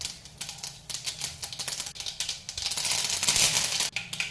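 Mustard seeds, curry leaves and fenugreek seeds crackling in hot oil for a tempering, with dense rapid popping and spitting that swells into a louder sizzling burst before easing.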